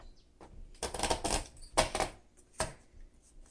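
A 1959 Olympia SM3 manual typewriter carriage slides and clunks, several sharp mechanical clatters and rattles close by in an otherwise quiet room.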